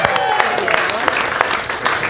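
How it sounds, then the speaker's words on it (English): Audience clapping at a live comedy show, loud and close, with distinct sharp claps standing out over a looser crowd patter and some voices mixed in. "we're going to clap for each one"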